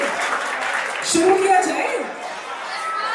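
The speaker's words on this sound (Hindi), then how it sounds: "पहले सभी लोग अपने लिए जोरदार तालियां बजाओ" Audience at a college event claps and cheers in a hall, a steady wash of applause with voices and a speaker talking over it.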